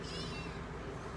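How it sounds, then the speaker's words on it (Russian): A kitten meows indoors during a Torah lecture, its short cries mixed with a faint room murmur. "Прибежал почему-то котенок сюда."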